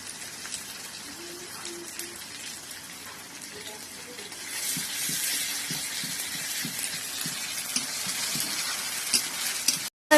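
Ground spice paste and tomatoes frying for mutton curry in a pot over a wood-fired stove, a steady sizzle that swells louder midway, with scattered stirring scrapes and soft knocks throughout.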